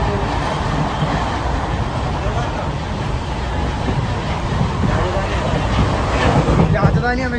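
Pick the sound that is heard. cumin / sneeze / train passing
train passing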